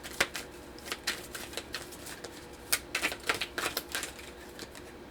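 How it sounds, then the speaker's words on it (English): Journaling cards are pulled and shuffled, making a quick run of crisp, close flutters and taps in an otherwise quiet room. "So I'm going to pull some journaling cards for you"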